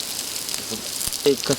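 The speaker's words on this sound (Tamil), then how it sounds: "මේ වෙලාවේ වහිනවා දැන් හොඳටම" Heavy rain falling on an outdoor cooking spot in a natural setting, a dense steady hiss of drops throughout, with brief voices breaking in near the end.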